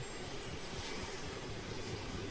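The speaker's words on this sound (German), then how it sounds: "Ich kann dich kaum verstehen, weil ich neben dem Heli stehe" A helicopter engine in the game DayZ drones steadily nearby, a loud, unbroken whine and rumble that holds level throughout with no voices.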